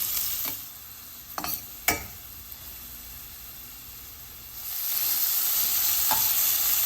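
Chopped onion sautéing in hot oil with cumin seeds on a tawa over a medium gas flame, a steady close sizzle broken by a few sharp stirring scrapes, growing louder and denser toward the end.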